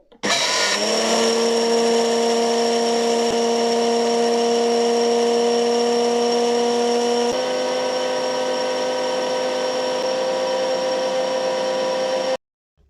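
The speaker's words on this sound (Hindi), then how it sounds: "तो हम इनको दोबारा से इनको ग्राइंड करेंगे" A kitchen blender grinds rice into powder in one loud, steady run of high-pitched whirring. The motor drops slightly in pitch partway through and then cuts off abruptly near the end, with no talking.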